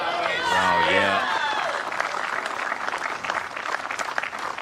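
Crowd at a World Bowls men's pairs final between Australia and Ireland breaking into sustained applause for a good bowl, with a commentator talking over the start before the clapping carries on alone.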